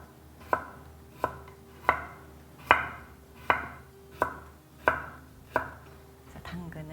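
A knife cuts carrots into thin slices on a cutting board for a vegetable hotpot, a steady series of about nine sharp, close chops roughly evenly spaced, with no speech.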